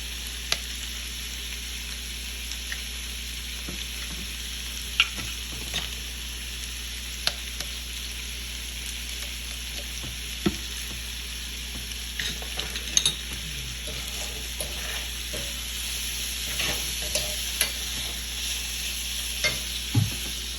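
An egg fries in an oiled pan with a steady, close sizzle, broken by scattered light scrapes and taps of a utensil against the pan over a low hum.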